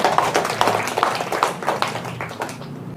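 A small audience claps at an Indonesian political speech, scattered uneven claps that thin out and fade toward the end, moderately close.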